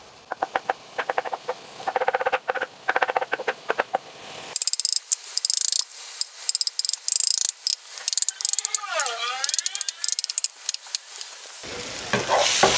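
Crackling, hissing sizzle of onions frying in a pan, steady and close, with occasional scraping and stirring.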